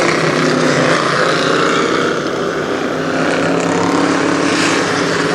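Race cars at Kil Kare Speedway accelerating hard out of turns 3 and 4, a steady loud blended engine roar filling the whole stretch with no break.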